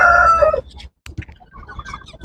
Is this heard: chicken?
yes